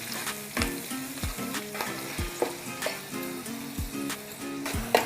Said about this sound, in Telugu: 1 స్పూను వెల్లుల్లి పేస్టు, ఇది కూడా పచ్చివాసన పోయి గోల్డెన్ బ్రౌన్ కలర్ వచ్చే వరకు ఫ్రై చేసుకోవాలి.